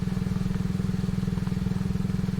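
A game ATV engine in Subsistence runs steadily in high gear, a close, rhythmic, chugging putter with fast regular pulses and no break.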